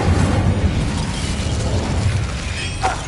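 An Incendio fire spell cast in Hogwarts Legacy erupts as a loud, dense, booming whoosh that holds steady for about three seconds.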